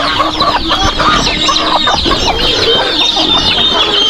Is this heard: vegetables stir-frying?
no